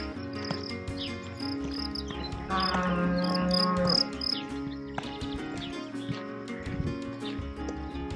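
Cows at a dairy farm on a rural walking route in Spain give a drawn-out low moo, with shorter lowing calls around it, over a steady chorus of crickets and occasional birdsong.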